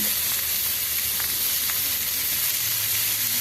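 Pumpkin and potato frying in a pan with salt and turmeric, giving a continuous close sizzle with soft hissing and no voices.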